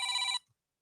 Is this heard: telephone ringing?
yes